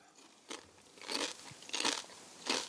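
Potato chips are bitten and crunched in four sharp, crisp bursts spaced about half a second apart, each a close, dry crackle against a quiet background.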